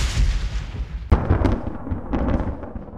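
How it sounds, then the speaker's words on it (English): Layered thunder and lightning effects built for a Skyrim dragon shout: a sharp cracking strike at about one second rips through a constant low rumble, followed by further crackling bursts as the deep roll keeps going. "More thunder and lightning."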